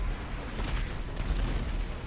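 Explosions in the GTA 5 Online Doomsday Heist, a continuous dense rumble of booms and blasts with crackling gunfire-like bursts, loud and sustained throughout.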